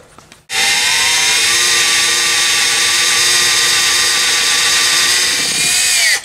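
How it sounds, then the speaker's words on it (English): A power drill starts up after a brief pause and whines steadily at high speed, drilling a 46RE transmission valve body, loud and close, for several seconds before easing off near the end. "get this set up and drill, and we're gonna start drilling"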